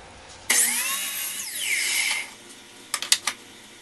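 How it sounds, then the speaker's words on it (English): A miter saw cutting wood pieces for a box: the motor whines up sharply, runs loud and close through the cut for about two seconds, then winds down, followed by a few quick knocks of wood. "start cutting the pieces out for the outside"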